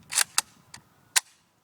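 A Mosin Nagant rifle fires Chinese surplus ammunition outdoors: one sharp crack, then a few quieter reports spaced over about a second, each fading quickly, with no voices.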